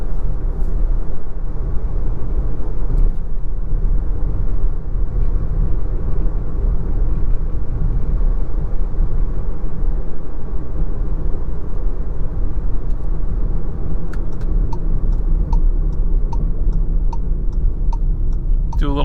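A VW Taos compact SUV driving slowly over a soft dirt trail, a steady low road rumble and cabin drone throughout with faint ticking clicks near the end.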